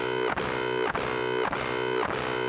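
A distorted Make Noise Dark Easel modular synthesizer patch pulses in a steady, repeating rhythm, each bright tone cut off by a brief gap roughly every half second.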